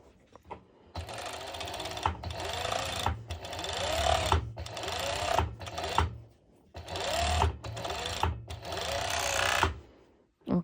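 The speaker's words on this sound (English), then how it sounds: "I will just go ahead and" A serger sewing machine stitches the edge of fabric for a pole dance top, running in several loud, steady mechanical bursts separated by short pauses, heard up close with no talking.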